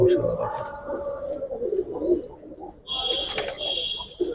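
Pigeons coo softly at close range among Giribaz pigeons, including a female, with a brief chirp and flutter of higher calls partway through; a person talks over the birds.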